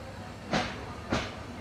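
A train pulling out of Dhaka Airport railway station, heard as a steady low rumble with two brief rushing bursts about half a second apart.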